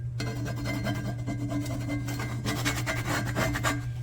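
Metal scraper rasping food off a pre-seasoned Lodge 10.25-inch cast iron skillet, steady gritty rubbing strokes repeating close up over about four seconds, with no talking.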